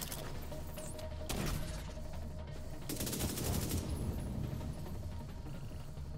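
Bursts of gunfire in The Division 2 video game, including shotgun blasts, two loud rapid volleys among scattered shots and impacts over a steady game background, fairly close.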